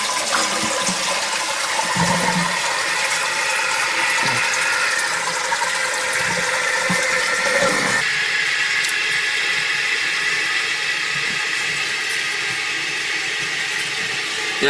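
A bathroom toilet with loose floor bolts and a leak into the cellar flushes with a loud, rushing gush. The water then settles into a long, steady refill hiss, with no talk.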